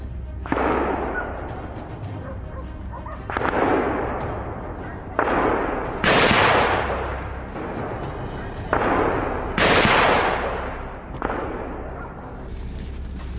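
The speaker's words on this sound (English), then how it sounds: "A shot cracked through the air, and in a flash, the boar lay still." Heavy rifle gunshots during a wild boar hunt, a series of about seven loud booming blasts spaced a second or two apart, each with a long rolling echo.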